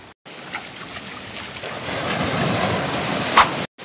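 Waves surging against a rocky shore as the tide rises at Arraial do Cabo, Rio de Janeiro, a steady broadband wash of surf close by that swells louder near the end, with one sharp splash of a strong wave.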